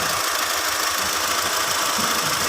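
A car engine runs steadily at idle up close during an automotive training check, its radiator motor fan not working, giving a constant even hum and hiss with no voices.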